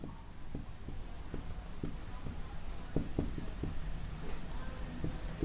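Pen writing by hand on paper during a physics lesson on plane mirrors, giving soft irregular scratches and taps with a faint hum of room noise behind them.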